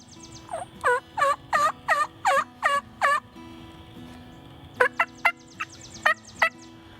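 Young male wild turkeys gobble from a field in a rapid series of rising, warbling calls, then a second scattered burst of shorter gobbles, moderately close over a faint outdoor background hum.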